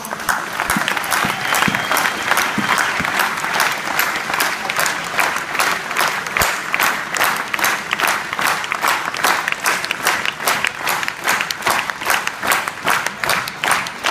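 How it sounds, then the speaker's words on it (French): Steady audience applause at a celebration honouring an athlete, with even, continuous clapping from a sizeable crowd filling the whole stretch at fairly close range. "Vos applaudissements."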